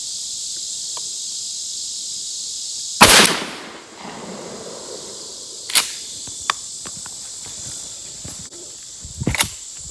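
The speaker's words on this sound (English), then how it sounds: "here's one of my loads I've made, 3 inch. 28 grains of long shot, MG 42 wad, 14 pellets of double aught buck" A 3-inch 12 gauge double aught buckshot handload, 14 pellets over a 42 wad, fired outdoors from a Maverick 88 shotgun with a mod choke: one loud sharp blast with a trailing echo, then a few smaller clicks and knocks over faint background hiss.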